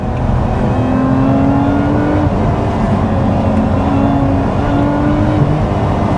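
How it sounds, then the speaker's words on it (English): A Lotus Emira sports car accelerates hard on back roads in second gear, its engine revving loud and close with a steady rising drone that holds through the whole stretch. "the throttle response is even sharper than sport mode, which is really good actually."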